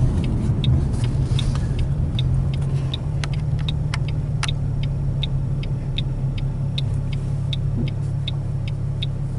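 Car cruising along a highway exit at about 65 mph, with steady road and engine rumble and faint regular ticking, likely a turn signal, continuous and close throughout.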